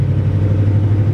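1988 Chevrolet Caprice V8 idling through true dual exhaust with an H-pipe, a steady deep low rumble held close and loud throughout, no voices.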